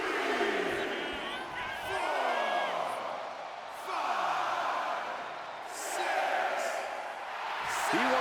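A large crowd roars and cheers in swelling waves, with whoops rising above, under an excited announcer's voice.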